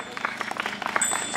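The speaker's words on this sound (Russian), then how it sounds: "Еще раз аплодисменты" Audience applause at a folk festival stage after a gusli performance, a brief burst of many hands clapping at moderate distance with a thin steady tone running through it.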